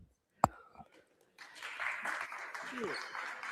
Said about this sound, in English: The refs get applause